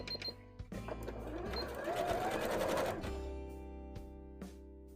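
A sewing machine runs steadily for a couple of seconds while stitching zigzags on a cosplay skirt, close and fairly loud, bracketed by small clicks and handling noises.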